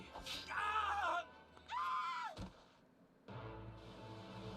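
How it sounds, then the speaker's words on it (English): Dramatic screams from a tactical RPG, two long wavering shrieks separated by a short pause, followed by a harsh noisy burst and game sound effects. "That was a real scream!"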